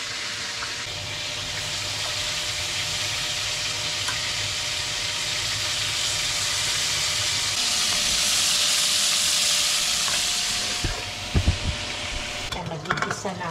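Food sautéing in a hot pan: a steady, loud sizzle with stirring that builds and then settles, followed by a few clattering knocks of a utensil against the pan near the end.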